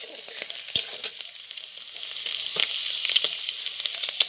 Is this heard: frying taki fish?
yes